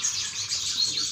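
Java sparrow chicks about fifteen days old, kept in a clay pot, give a steady, dense high-pitched chirping that carries on without pause, close and fairly loud.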